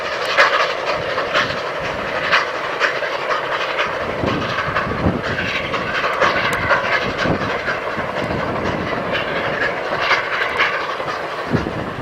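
Steam locomotive number 7, painted blue, passes on the North York Moors railway, a steady loud rumble of rolling wagons with rhythmic clatter and chuffing close by, no voices.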